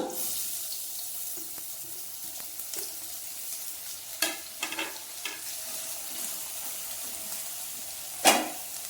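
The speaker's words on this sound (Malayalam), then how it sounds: "ഇനിയിപ്പോൾ അതിലേക്ക് നമ്മൾ ഈ അരിഞ്ഞു വെച്ചിരിക്കുന്ന ചെറുതായി അരിഞ്ഞു വെച്ചിട്ടുള്ള ഉള്ളി ഇട്ട് കൊടുക്കുക." Finely chopped onions fry in hot coconut oil in a pan, making a soft, low sizzle broken by a few sharp clatters and stirring knocks. No one speaks over it.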